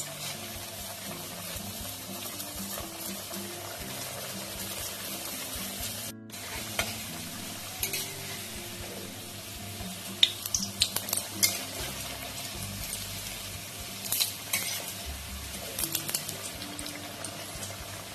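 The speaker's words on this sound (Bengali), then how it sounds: "আমি সবগুলো ভেজে নেব।" Food pieces fry in a pan of hot oil with a continuous crackling sizzle, broken by occasional scraping and clinks of a utensil stirring them; no voices.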